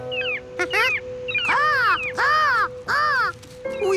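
Cartoon seagulls cry several times in a row, loud and close, with bright rising-and-falling squawks separated by short pauses over a steady hum.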